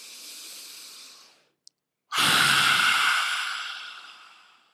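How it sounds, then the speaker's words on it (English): During Sitali pranayama, a close breath trails off into a brief silence, then a deep, loud, hissing in-breath swells and slowly fades. "And a deep in-breath."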